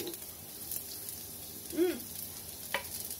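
Ginger and garlic frying in hot oil in a pan for a Chinese cabbage dish, giving a faint steady sizzle with a couple of brief soft clatters near the end.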